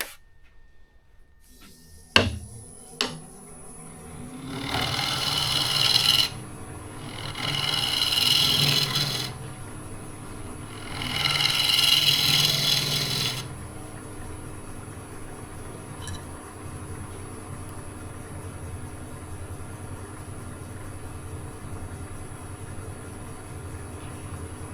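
A woodturning lathe hums steadily while a tool cuts a tenon and shapes a curve up to the rim, giving three separate bursts of harsh, scraping cutting noise, each lasting a second or two.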